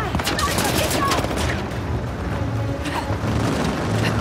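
Loud, dense gunfire in Uncharted: The Lost Legacy pours out as rapid overlapping shots and booms, nearly continuous throughout, with voices partly mixed underneath.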